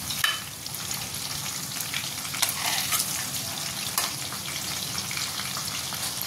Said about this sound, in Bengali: চিকেনগুলো তো এখানে ভাজছি